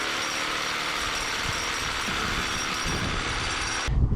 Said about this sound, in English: Now that is how you shake a can.